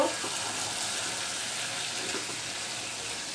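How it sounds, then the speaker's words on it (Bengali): Beef kala bhuna frying in a pan makes a continuous close sizzle, joined by a few soft scraping stirs near the start, with the hiss holding level to the end. "এই তো এবার আমি নাড়িয়ে দিব"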